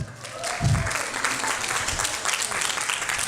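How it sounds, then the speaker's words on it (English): A crowd at a senior center volunteer recognition event claps steadily for a guest, with a brief voice near the start under the dense applause. "Everybody applause for Tom Selleck."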